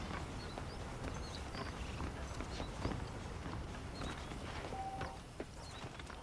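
Saddled horses clip-clop at a walking pace in the Red Dead Redemption western game, a steady hoof rhythm that stays fairly close and even, with faint ambient wind and no voices.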